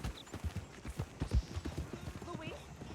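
In Red Dead Online, a ridden horse's hooves patter in a quick, uneven rhythm, fairly quiet, mixed with a person talking.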